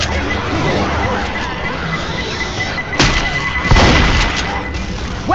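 A grenade goes off in Left 4 Dead 2 during a tunnel section of the Death Toll campaign: a sharp blast with a crashing burst about three seconds in and another near four seconds, over constant game noise and crowd-like hubbub.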